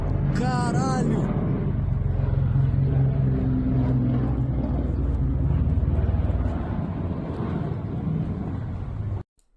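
ATR-72 twin-engine turboprop airliner spinning down out of control over São Paulo, a loud continuous engine drone with a brief high siren-like tone at the start, voices talking over it, then abruptly cut off.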